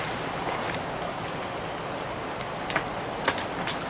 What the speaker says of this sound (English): there's ice coming down from these fir trees here.